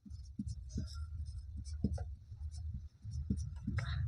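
A pen scratches across paper while a Class 10 maths problem is worked out. The strokes are short and close, coming in an irregular rhythm of scribbles with brief pauses, alone against a faint background hum.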